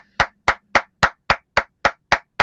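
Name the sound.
applause for sound engineer Mark Rivet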